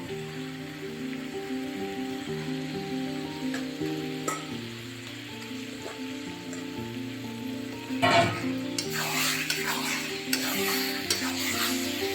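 Chicken meat tossed into a pan of spices already fried with red chilli and a splash of water; a loud sizzle bursts out partway through and crackles on steadily, under continuous background music.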